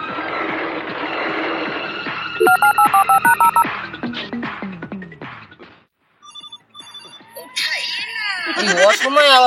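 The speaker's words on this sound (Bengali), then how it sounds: "অসময় আবার কে ফোন করলো রে?" A telephone ringtone plays as a quick run of bright electronic beeps, set within a tense rural action short film over a dense, noisy background with other music and voice-like sounds around it.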